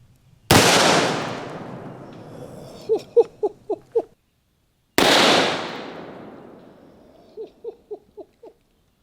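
A double-barrel 1911 pistol firing .90 ACP at a ballistic dummy head gives two loud, sharp gunshot blasts about four seconds apart, each followed by a short burst of rapid, fading echoes or debris patter.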